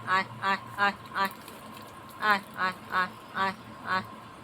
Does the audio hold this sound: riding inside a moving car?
no